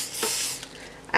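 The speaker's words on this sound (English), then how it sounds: "Once ready, spray the pita pockets nicely" Oil is sprayed onto pita bread pockets in a kitchen, giving a soft hissing spray that runs through most of the moment, then a louder, sharper burst near the end.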